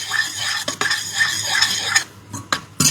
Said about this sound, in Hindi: तो ये गाय के घी में अच्छे से जब इसको सेक लेते हैं ना, सारी चीज़ों को भून लेते हैं,